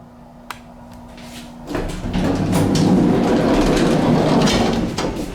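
The door of a vintage Otis black-button hydraulic elevator in a Dallas building operates, a soft click and hum giving way to a loud, sustained rumbling slide close by, without any talking.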